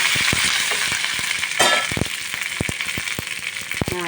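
Food frying in oil in a pan, a steady close hiss of sizzling with scattered sharp pops and clicks of utensils stirring, no voices.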